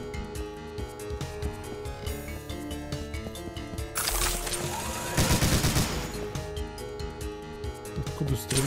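Rapid gunfire in the Doom video game (Brutal Pack mod, TNT Evilution map), bursts of shooting over a busy game soundtrack, growing louder and denser midway, with a player speaking briefly.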